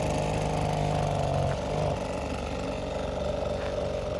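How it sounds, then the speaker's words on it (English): A steady, droning motor whine of a leaf blower running continuously nearby, staked in the ground at an outdoor event, with a slight shift in pitch partway. "Okay, they got a leaf blower."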